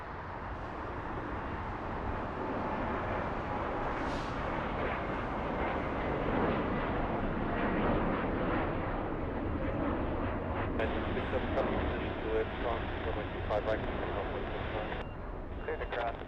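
An airliner taking off at LAX, a broad steady engine roar that swells and holds for the whole stretch, heard from a distance with talk over it.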